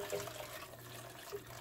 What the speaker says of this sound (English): I'm going to take this pot and the liquor, and I'm going to pour it